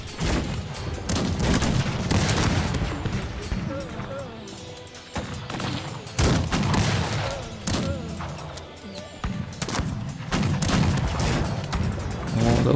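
Musket volleys and scattered gunfire in the Cossacks 3 strategy game, dense overlapping shots with heavy thumps, a voice speaking over the battle noise.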